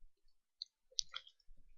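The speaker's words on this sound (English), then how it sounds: "You have to click on this scroll down menu" A computer mouse clicks a few times in a quiet room while a Hammer map editor is used, with sharp close clicks and a short cluster of clatter.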